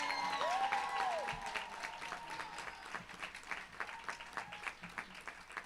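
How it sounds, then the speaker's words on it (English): A crowd at a school convocation breaks into applause, a dense wash of clapping that starts full with a whistle-like cheer, then thins into sparser, distinct claps toward the end. "Let's give her a big round of applause."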